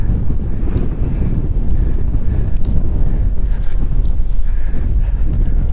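Steady, blustery wind on a Northumberland hilltop hill fort buffets the microphone throughout, a constant low roar with no voices.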